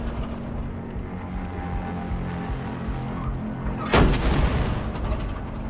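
A low rumbling backdrop breaks into a single sharp, loud blast, like a gunshot or explosion, followed by a crackling rumble that trails off, gunfire in the video game ReAnimal.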